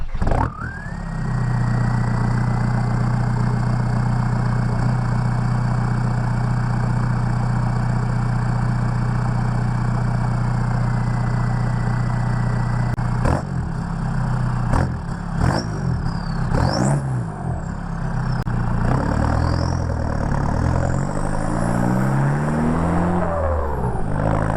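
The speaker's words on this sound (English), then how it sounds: "It has also been straight piped by yours truly, and here is a clip of what that sounds like." Straight-piped Corvette Z26 exhaust rumbling at a steady, loud idle for several seconds, then barking through a series of sharp revs with rising and falling engine pitch, heard up close with no talking.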